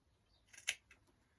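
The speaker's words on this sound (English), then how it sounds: "So I should just cut all of those out for a second." Scissors cutting out fabric pieces for a collage, a single sharp snip with a couple of softer clicks around it, close and brief against near silence, no voices.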